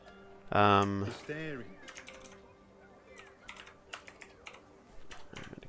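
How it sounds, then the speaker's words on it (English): Computer keyboard typing during a Crimson Desert gaming session, scattered quick key clicks in short bursts after a brief loud tonal sound at the start, with quiet game audio underneath. "I'm going to go back into typing it here"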